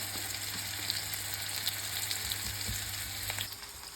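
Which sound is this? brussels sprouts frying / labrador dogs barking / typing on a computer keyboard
brussels sprouts frying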